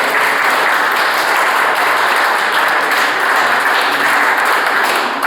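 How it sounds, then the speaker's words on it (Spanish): A ceremony audience gives loud, sustained applause, dense clapping from many hands holding at an even level without a break, with no voices over it. "Nosotros también son damas a quien pedimos un fuerte aplauso."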